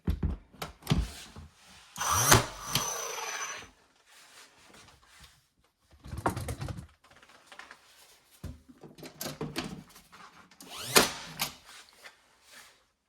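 A power tool drives fasteners into parts during a modern bar renovation, in several short bursts separated by pauses, with handling clatter between runs.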